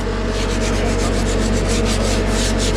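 A gloved hand scrubs the surface of white cement concrete, making a loud, continuous rough rubbing and scraping with a fast repeating back-and-forth rhythm and no talk.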